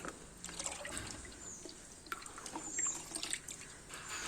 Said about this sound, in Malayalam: അത് ഞാൻ സ്പ്രെയറിലേക്ക് മാറ്റുകയാണ്